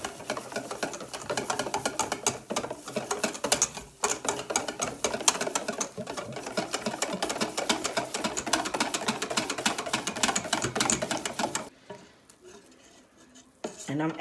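A whisk clatters rapidly and steadily against a bowl while mixing sweet and sour chicken batter of cornstarch, baking powder and water, a close, busy rhythmic scraping that runs for about twelve seconds before stopping into near quiet.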